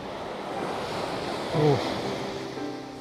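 Waves at a lakeside wash in a steady, broad rush with wind noise on the microphone. A brief voice cuts in midway.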